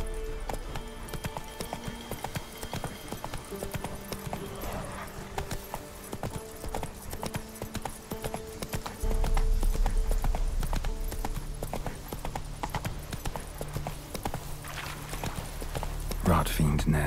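Geralt's horse Roach clip-clops steadily through The Witcher 3, hooves near and rhythmic under game music, slowing near the end, with speech over it.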